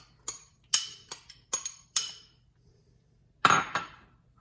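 A spoon scraping and knocking onions out of a pot for a homemade pot roast: about seven sharp metallic clinks and scrapes in an uneven rhythm, close and isolated, separated by near silence.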